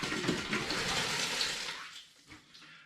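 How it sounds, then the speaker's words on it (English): Ten litres of spring water pour into a hot pan for home-brewed Vimto and hops cider, a loud rushing, splashing gush that tapers off into a few quieter drips and sloshes. "there's 10 litres of water going into the hot pan"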